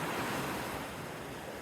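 Ocean waves wash onto a beach at sunset, a dense, continuous roar of surf mixed with wind buffeting the microphone, loud and close with no talking.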